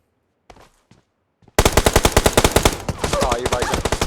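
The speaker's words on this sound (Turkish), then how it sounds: "İki kişi karşı binanın oradan sıkıyorlar." Sustained automatic gunfire from enemy players in PUBG Mobile erupts after a short, quiet stretch with a few faint voice sounds, then rattles on loud and rapid with dense rhythmic bursts.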